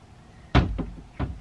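A top drawer bumps shut in a bedroom, with a sharp wooden knock followed by two softer thuds close by, alone with no talk.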